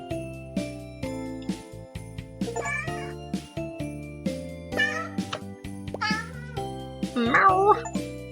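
Cats meow several times in Cat Cafe Manager video game, short rising cries over light background music with soft tinkling, growing louder toward the end.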